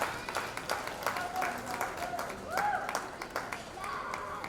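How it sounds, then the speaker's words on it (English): Audience at a junior swine show applauding a young showman, moderate clapping with scattered cheers and a few whistles, voices mixed in around the arena. "Give him a round of applause."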